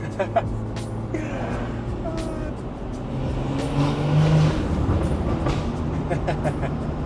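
A loud BMW with a B58 engine drives along a backroad, its exhaust droning and swelling under acceleration from inside the cabin while people talk over it.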